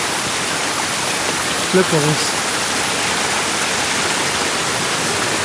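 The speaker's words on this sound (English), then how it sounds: "Look at the little stream coming from the mountain" Small mountain stream near Monteverde, Costa Rica, a loud, steady wash of rushing water close by with a brief voice speaking over it.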